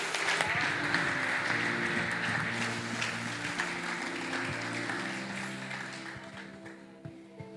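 A church congregation applauds during a communion service, sustained clapping heard over a held organ or keyboard chord, gradually thinning and fading toward the end.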